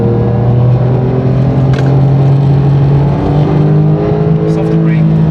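A 2024 Porsche Turbo S accelerating around a race track, its engine note droning steadily and rising in pitch from close inside the cabin, with a voice talking over it.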